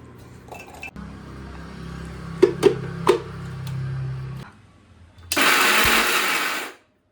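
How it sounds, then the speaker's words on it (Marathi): A kitchen mixer grinder whirs briefly in a loud, steady burst while grinding peanuts, after clinks of a jar and lid being handled and set in place. "शेंगदाणे मिक्सरमधून बारीक करून घेणार आहोत"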